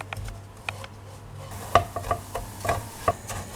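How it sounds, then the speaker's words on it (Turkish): Shredded kadayif being stirred and roasted in a pan with butter and sugar, with scattered scraping clicks of a spoon against the pan over a faint low hum, no voices. "Kadayıfların üzerine 3 yemek kaşığı tereyağı ve 4 yemek kaşığı toz şeker ilave edip Rengi kızarana kadar karıştırarak kavuruyorum"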